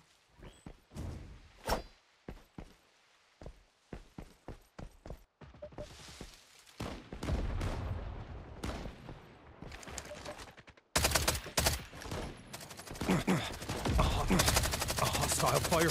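An attacking enemy fires on the player in Lost Light, with scattered single shots and thuds giving way to heavier bursts and then sustained loud automatic fire, close and harsh, mixed with movement noises.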